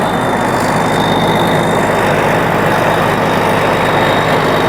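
Big rice harvesting machines work in a village field, giving a steady, loud engine drone with a low rumble that continues unbroken throughout.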